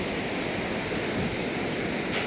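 The Dudh Koshi river on the Everest trail rushing loudly close by, a dense unbroken roar of whitewater with no pauses.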